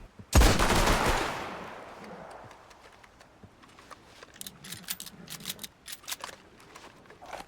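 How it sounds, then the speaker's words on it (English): A single loud gunshot from a hammer-cocked gun in a video game, booming and then fading, followed by quieter clicks and clatter. "Hammercock. Fire. Hammercock. Fire."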